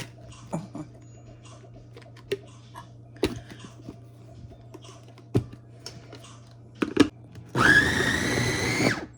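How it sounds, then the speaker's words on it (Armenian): A kitchen blender whirs loudly for a couple of seconds at the end, blending ingredients, after scattered clicks, taps and handling noises in a quiet room. "Հիմա այս ամենը միասին մենք բլենդերելու ենք, սիրելիներս, հարելու ենք"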